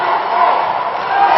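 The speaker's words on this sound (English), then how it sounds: "the crowd is going wild" A crowd at the Dodgeball World Championship in Cancun, Malaysia against USA, roars in a steady, loud wash of cheering that fills an indoor arena with no break.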